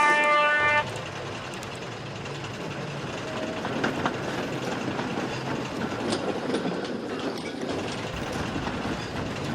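A freight train rolling along rails, a steady close rumble with rhythmic clickety-clack and metallic rattling of wagons that continues throughout, with a brief tonal horn-like sound at the very start and no speech.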